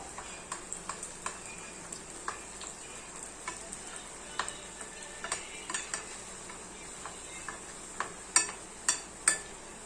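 Carrot malpua fries in oil in a pan, with a steady soft sizzle broken by repeated sharp spatula scrapes and clicks as oil is pushed over the batter, close and fairly quiet.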